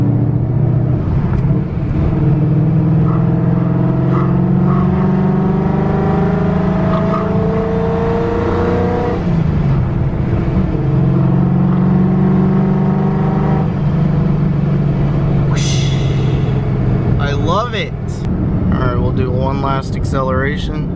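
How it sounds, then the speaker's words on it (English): A boosted 5.0 Coyote V8 swapped into a car roars loudly from inside the cabin, engine note climbing and falling through high revs over a sustained drone, with people talking throughout. "once you get into the higher RPM, like I would say like any higher than 2500 RPM, you're gonna be making some noise"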